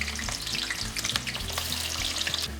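Wild boar backstrap frying with onion in grease that is not too hot, a steady crackling sizzle with popping spatters, close and continuous with no talking.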